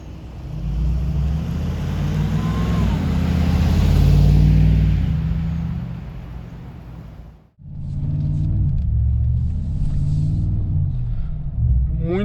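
A Mercedes-AMG G63 with a twin-turbo engine rated at 585 hp runs close by, giving a loud, steady low rumble that swells and then cuts off sharply. It resumes a moment later with a slightly lighter throb.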